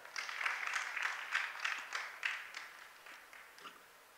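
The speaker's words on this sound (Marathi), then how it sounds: "सर्वांनी टाळ्या वाजवा जोरदार." A gathered crowd at a devotional kirtan gathering claps together in a short burst of applause, dense at first and then thinning out and fading over a few seconds.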